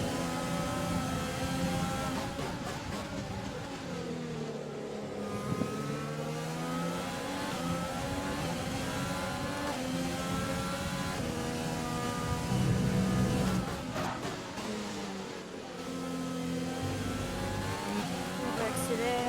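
A Formula 1 race car engine in F1 2020 screams through rising and falling gear-change sweeps as it accelerates, a continuous loud whine, with commentary speech running over it.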